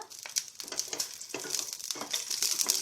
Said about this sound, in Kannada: ಮೆಣಸಿನ್ಕಾಯಿ ಹುರಿಯೋಣ ಒಂದು ಅರ್ಧ ಟೀ ಸ್ಪೂನ್ ಅಷ್ಟು ಎಣ್ಣೆ ಹಾಕಿದ್ದೀನಿ ಇಲ್ಲಿ ಮೆಣಸಿನ್ಕಾಯಿನ ಹಾಕ್ಕೊಂಡಿದ್ದೀನಿ ಇವಾಗ ಸ್ವಲ್ಪ ಫ್ರೈ ಮಾಡ್ಕೊಳ್ಳೋಣ